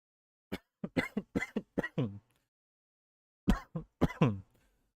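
A burst of rapid coughs, several in quick succession, followed by a pause and then another short cluster of harsh coughs, close and clear.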